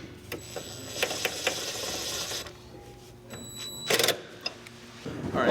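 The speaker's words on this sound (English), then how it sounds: "we need to secure the airbox with our two 10mm" A ratchet tightens two 10mm bolts securing the airbox on a 2006 BMW 328i xDrive E90, giving quick bursts of metallic clicking separated by short pauses and light knocks, close and moderately quiet, no talking.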